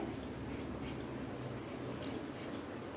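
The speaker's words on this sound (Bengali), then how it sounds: "এই যে আলু কাটছি, এইরকম সাইজ করে আলুগুলো কাটতে হবে" Knife slicing raw potatoes into long thin strips, a steady quiet scraping and crunching with soft repeated cuts, close up and without talk.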